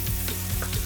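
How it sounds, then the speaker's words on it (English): Gai lan stems stir-frying with garlic in hot oil, a dense close sizzle with quick rhythmic stirring pulses. "Just pop the stems in first because they take longer to cook. And then give that a quick stir fry."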